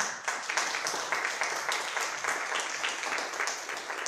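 A church congregation applauding, a dense and continuous wash of clapping from many people that holds steady throughout.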